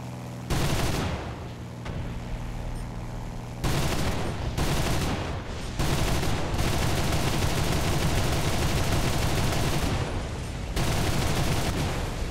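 Rapid bursts of German 30mm aircraft cannon fire from an He 219 A-7 night fighter in War Thunder realistic battles, sustained loud automatic fusillades with brief pauses between strings of shots, alone without talk.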